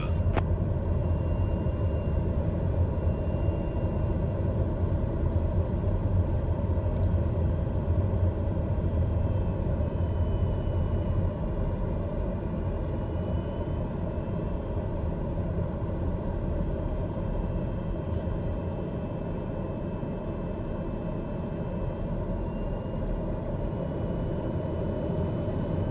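Steady, continuous aircraft engine drone inside Microsoft Flight Simulator over Caracas, Venezuela, a loud, even rumble holding without a break for the whole stretch, with no talk over it.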